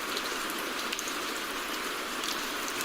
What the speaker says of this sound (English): I'm really hoping that the rain in the back makes it a little bit more ambient